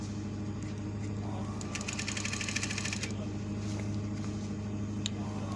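Sewing machine stitching a loose stitch on fabric, a faint rapid mechanical whir running for about a second amid quiet room noise, with a voice talking nearby.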